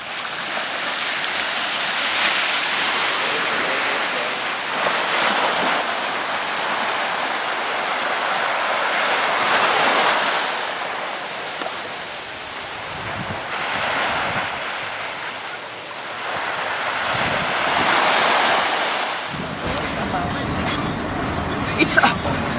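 Ocean surf on the Ilocos coast, waves big enough for surfing, rolling and crashing in loud broad washes with wind noise across a long stretch, and people talk in the background.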